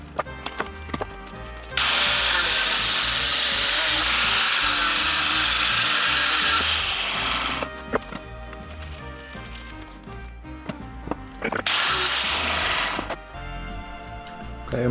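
Power tool cutting through a weld on a steel minibike frame pipe, a loud, harsh grinding whine for about six seconds, then a shorter second cut after a pause with light clanks between.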